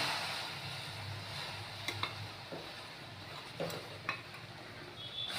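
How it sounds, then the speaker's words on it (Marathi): Bajra flour being stirred into boiling water in a pot for bhakri dough, a soft continuous scraping swirl with a few sharp utensil taps against the pot, close and steady. "आता आपण ह्याच्यामध्ये हे बाजरीचे पीठ टाकून घेऊया."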